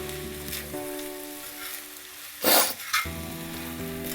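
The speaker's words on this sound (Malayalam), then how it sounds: "ചോറ് ബോയിൽ ചെയ്ത ചോറ് കേട്ടോ. അത് നല്ലോണം ഒന്ന് ഇതിന് മിക്സ് ചെയ്തിട്ട് വരണം." Boiled rice stirred into a sizzling egg masala in a frying pan, heard as a loud steady fry with a sharp scraping stir burst near the end, close up and without speech.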